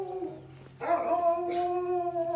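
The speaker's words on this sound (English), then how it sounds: "Some big dogs again." Big guard dogs in a Guyanese neighborhood street howl and bark from a moderate distance, a sustained tonal howl rising and holding after a quiet start, with other dogs joining in.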